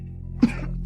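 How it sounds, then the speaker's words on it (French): Two short coughs, close and distinct, the first sharper and the second softer, over a low background hum. "C'est quoi cette toux?"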